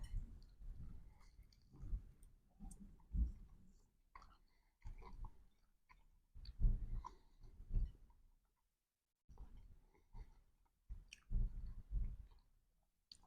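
Someone chewing a store-bought buffalo wing coated in medium sauce: close, soft wet mastication in irregular bursts, pausing briefly midway, quiet and without speech.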